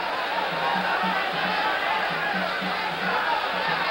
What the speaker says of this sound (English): The crowd responds to Escalera's resurgence in the last 2 rounds with cheering, concerted cheering